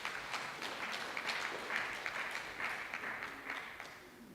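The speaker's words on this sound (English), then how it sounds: "So I think we can once again give the institution a round of applause." An audience at a municipal state-of-the-municipality address gives a round of applause for the institution, heard as a soft, distant, even wash of many hands clapping throughout.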